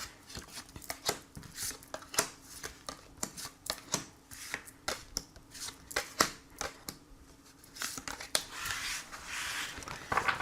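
Tarot cards being shuffled by hand for a reading, a quiet close run of crisp riffling and slapping bursts in an uneven rhythm, continuing throughout without speech.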